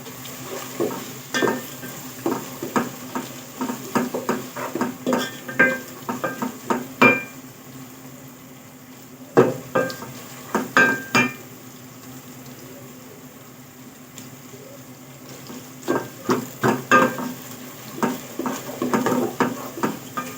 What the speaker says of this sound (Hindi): ये हमारा लहसुन अदरक और जो है गरम मसाला थोड़ा सा फ्राई हो चुका है